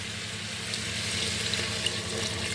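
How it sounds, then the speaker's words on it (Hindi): Water pours steadily into a pan of pea and mushroom curry as it cooks, a continuous close splashing rush with no voices. "और इसमें थोड़ा पानी डाल दूंगी।"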